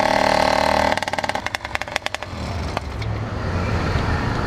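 An 80cc motorcycle with a troubled clutch: a loud, close engine drone breaks into rapid stuttering pulses, then settles into a rougher, uneven running note.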